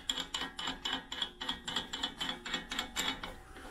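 Ratcheting tool tightening the nut on a Corvette C3 trailing arm wheel bearing, a steady run of about a dozen crisp metallic clicks in even rhythm, close up with no talk.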